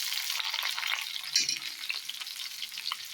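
Green chillies, onion, cumin and mustard seeds frying in hot oil in a kadai, a continuous close crackling sizzle with light spattering pops and a brief stir partway through.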